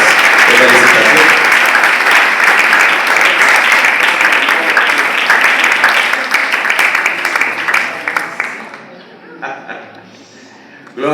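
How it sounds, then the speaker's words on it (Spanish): Loud, dense applause from a large church congregation fills most of the stretch, then thins out and fades near the end. "Démosle un aplauso a estas parejas, a las parejas de felicitación."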